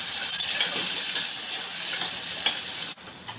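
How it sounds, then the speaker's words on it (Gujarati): Onions sautéing in a pan for sambar, a steady close sizzle of frying with a faint stir and one brief clink near the end, no voices. "હવે આપણે ડુંગળી થોડી સાંકળી લઈશું"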